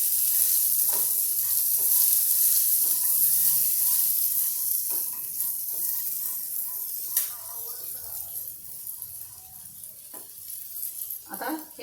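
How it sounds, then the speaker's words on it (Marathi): Green chickpeas sautéing with salt in a pan for a bhel snack, a soft continuous sizzle broken by scattered scraping stir strokes, with a few louder clatters near the end. "चण्यांना मीठ लागतं आणि हे मग आपण छान परतून घेऊ"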